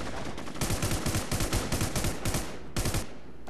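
In War Inc Battlezone, an automatic weapon fires a long, loud burst of rapid shots, then a shorter second burst after a brief pause. No voices are heard.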